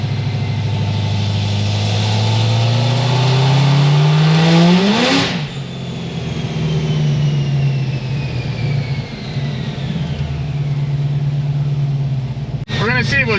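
An Edelbrock supercharged Corvette C6Z engine revs hard in a rising pull, its pitch climbing to a peak before dropping away to a steady lower drone, ending with a sharp knock; a voice speaks over it.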